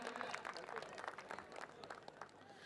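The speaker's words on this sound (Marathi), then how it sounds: "टाळ्या होऊ द्या एकदा छोटम शेट मित्रांनो" Faint, distant applause and crowd noise at a local premier league cricket ground, a steady patter of clapping from spectators under a low murmur.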